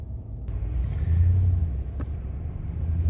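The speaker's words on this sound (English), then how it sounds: "So what I'm going to do now is I'm going to go for a test drive" A 2017 Dodge Ram 5.7L 4x4 pickup on 275/60R20 all-country tires drives at low speed, a steady deep engine and road rumble heard from inside the cab, swelling slightly as it pulls away.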